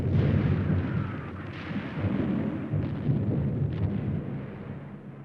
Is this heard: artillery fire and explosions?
yes